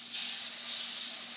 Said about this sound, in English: And that sizzle, if you don't hear that, you're not doing it right.